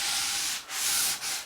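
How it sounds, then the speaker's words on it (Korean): Sandpaper rubbed back and forth over a wooden belly board resting on a workbench, three long close scraping strokes separated by brief pauses, loud and alone. "이렇게 사포질을 계속 해주시면 됩니다"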